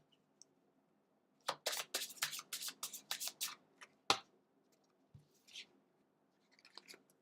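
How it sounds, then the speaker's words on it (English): Tarot cards riffled and shuffled by hand in a quiet room, a rapid run of crisp, close flicking bursts followed by a sharp tap and a few softer card shuffles, with no talking. "I can then sort of really shuffle like this"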